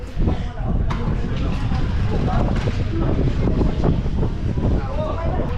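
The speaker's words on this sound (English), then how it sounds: "Sorry if this is very windy." Wind blows into the microphone in a loud, continuous low rumble and buffeting throughout, outdoors around Dumaguete and Bais City, Philippines.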